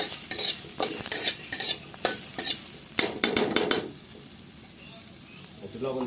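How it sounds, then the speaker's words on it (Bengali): Onions frying in oil in a kadai while a spoon stirs them, loud sizzling broken by repeated scraping strokes that stop near the end, leaving a quieter steady hiss. "এখন এই পেঁয়াজগুলো লাল হওয়া পর্যন্ত কড়াইতে ভাজবো।"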